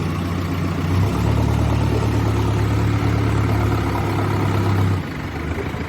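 Tractor ploughing a kitchen garden field among papaya and lemon plants: a loud, close diesel engine drones low and steady, swells after a second, holds, then eases back to a lower idle near the end.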